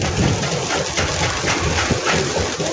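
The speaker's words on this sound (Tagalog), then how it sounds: "Ayan na po mga ibon nyo." A large flock of racing pigeons released at Gerona, Tarlac fills the air with a dense, continuous wash of wingbeats and fluttering, loud and steady throughout.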